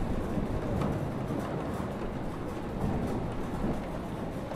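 Steady, dense rain from a storm in the video game Life is Strange, a continuous broadband wash at even loudness throughout with no distinct thunderclap standing out.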